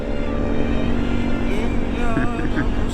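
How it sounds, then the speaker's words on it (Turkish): A jeep's loud exhaust roars like a motorcycle, a steady close rumbling drone that swells slightly, heard alone with no talk. "egzoz sesine bak. Motor gibi jipin egzozu."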